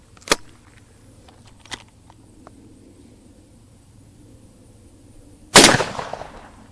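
Midland Arms .410 shotgun fired outdoors: one sharp, loud blast near the end with a fading echoing tail, preceded by a couple of faint distant pops and quiet ambience.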